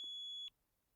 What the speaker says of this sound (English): I can hear the alarm.